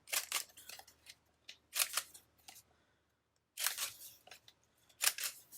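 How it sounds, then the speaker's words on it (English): A corner rounder punching the corners of a small paper card for a Happy Planner spread, four sharp crunching clicks spaced apart, close and fairly quiet against a silent background. "I think for this little card, I'm going to go ahead and round off the corners."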